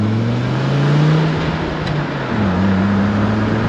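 An Audi RS2 turbo car accelerates hard, a loud, close engine drone rising steadily in pitch, dipping briefly at a gear change, then climbing again.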